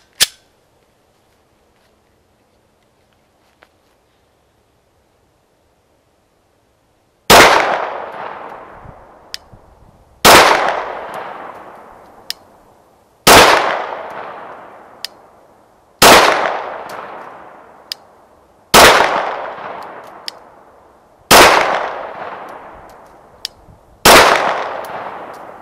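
A Glock pistol fires at a target: one shot right at the start, then a pause, then seven loud, sharp shots evenly spaced about three seconds apart, each ringing out briefly.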